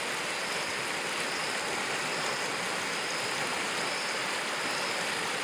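The Rio Salgado, swollen after heavy rain and running toward the Castanhão reservoir, roars as a steady, dense wash of flowing water that holds even throughout, with no voices.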